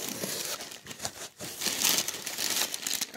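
Plastic wrapping around a reborn baby doll crinkles continuously in a box, a close, busy rustle without pause that dips briefly midway and then resumes.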